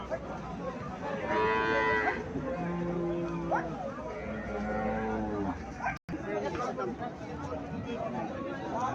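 A small PGM-breed cow at a cattle market lets out several drawn-out moos, close and loud, over a background of crowd chatter and people talking.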